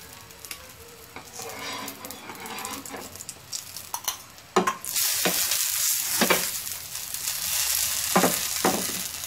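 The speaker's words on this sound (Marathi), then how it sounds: "आता गॅस मोठा करते, थोडंसं साईडनी तूप सोडूया" Sabudana thalipeeth frying in ghee on a hot iron griddle, with a steady loud sizzle that swells sharply midway as more ghee hits the pan, punctuated by occasional scraping clicks of a spatula.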